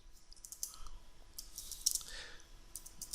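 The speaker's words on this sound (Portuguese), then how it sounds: "eu posso digitar aqui, ó, file" Light clicks from a computer keyboard as a shell command is typed, a short scattered run of quiet, close keystrokes with no voices.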